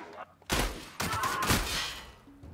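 Shotgun blasts in the video game The Outer Worlds: two loud, close booming shots about half a second apart, each with a rumbling tail, and a voice speaking around them.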